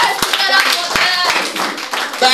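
A church congregation at an annual thanksgiving service in Benin City claps hands in brisk, loud, overlapping bursts, with voices mixed in throughout.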